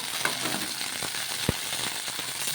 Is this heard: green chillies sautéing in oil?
yes